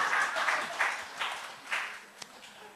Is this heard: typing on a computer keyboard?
no